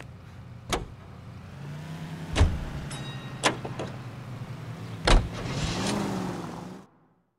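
A car drives steadily in L.A. Noire, its low engine drone running under a few sharp knocks and thumps before the sound cuts off abruptly at the end.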